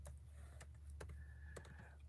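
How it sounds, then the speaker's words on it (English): Sparse, uneven key presses come from a computer keyboard typed on with one hand, several distinct clicks spaced apart over a low steady hum in a quiet room. "I'm going to be typing with one hand"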